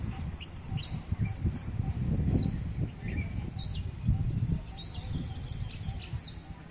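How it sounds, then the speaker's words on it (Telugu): Birds chirp and tweet in short repeated calls across a green village setting with coconut trees and a large well, set against a low rumbling background. "పక్షుల చప్పుడు."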